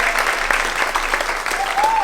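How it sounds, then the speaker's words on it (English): An audience at a seniors' talent show claps for the event's sponsors, a brief burst of steady, dense applause from a modest crowd while a voice carries on over it. "give them a round of applause"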